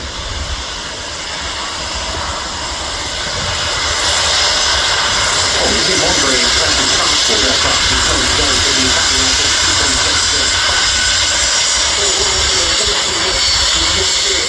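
Airbus A400M military transport aircraft flying a display, a loud sustained turboprop roar with a pulsing throb that swells and holds, and people talking faintly underneath.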